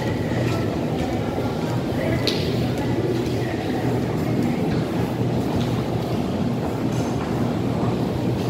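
An underground metro train in a Baku station gives a loud, continuous low rumble and rattle, with faint screeches rising over the roar throughout.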